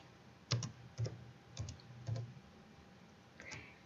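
Computer keyboard keys struck while entering HTML table code, about five distinct clicks at roughly half-second intervals, close and fairly quiet, with no voices.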